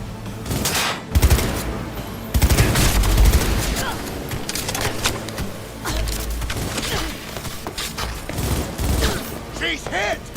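Rapid bursts of gunfire and booms from the video game Cyberpunk crackle loudly in clusters, with brief pauses between volleys.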